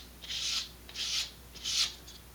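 Three rasping sanding strokes on a vintage Estes Sentinel model rocket part, each about half a second with short pauses between, close and fairly quiet, with no talk.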